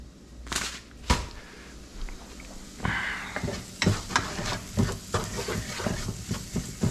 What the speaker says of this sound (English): Stock and raisins go in, bring to a boil.